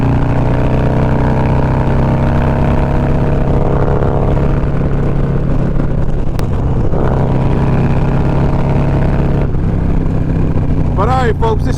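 A 2020 Harley-Davidson Road Glide engine rumbles steadily and loudly up close, a deep, even drone that holds the whole time while someone talks over it.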